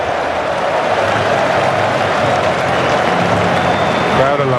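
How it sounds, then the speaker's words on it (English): Cricket crowd cheering and clapping after a boundary four in an Australia vs England one-day international, a steady broad roar of applause from a large stadium audience, continuous and fairly loud. "Crowd are loving it."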